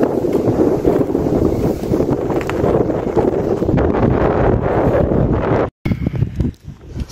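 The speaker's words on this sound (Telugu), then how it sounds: "గాలి వల్ల చాలా తోస్తుంది అనమాట" Strong wind buffeting the microphone on a rocky hillside climb, a loud continuous roaring gust that drops out briefly near the end and returns unevenly.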